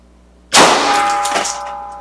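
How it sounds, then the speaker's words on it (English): A Megaboom supersonic target bottle bursts indoors in a studio when hit by a shot from a 2240 airgun, making one sudden loud bang followed by a long metallic ringing decay. "that 2240 definitely gave us that big pop that we wanted"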